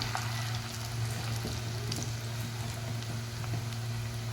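Potato and onion pakoda fry in hot oil with a continuous close sizzle and light bubbling, plus a steady low hum underneath and scattered soft pops, with no voices.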